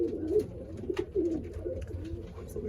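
Young pigeons in a loft give soft, low coos in short repeated bursts, fairly close and quiet, with faint rustling between the calls and no talking.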